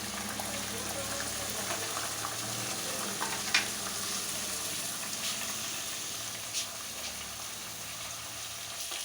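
Beef with ginger garlic paste and spices for haleem fries in a pot, a steady loud sizzle with occasional stirring scrapes and clinks running throughout.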